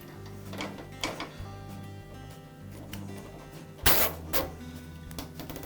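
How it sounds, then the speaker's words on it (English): Cable ties ratcheting tight around a lawn mower handle, a few close, quick zipping clicks and ticks with brief sharper bursts, quiet overall. "I'll secure the cable to the handle with some cable ties."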